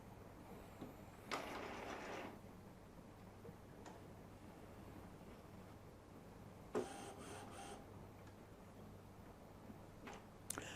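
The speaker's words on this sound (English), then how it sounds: "the printer's going to complain, obviously, because there are no cartridges" A WF-2110W sublimation printer with no ink cartridges whirs and clicks through its startup, with two bursts of mechanical motor noise, faint ticks between them, and a quiet background hum.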